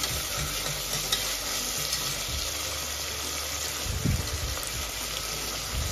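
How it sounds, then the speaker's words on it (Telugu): Tomatoes and ripe red chillies fry in a pan with a steady, loud sizzle, and occasional stirring scrapes rise over the hiss near the middle and the end. "ఇందులోనే టమాటాస్ వేసేసుకొని పండు మిర్చిని కూడా మనం వేసేసుకొని ఫ్రై చేసుకుందాం."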